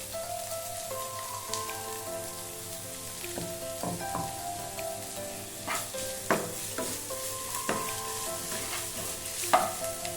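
Ginger and garlic sizzle in hot oil in a pan along with green chili while a utensil scrapes and stirs in irregular knocks, close and fairly quiet, with no talking.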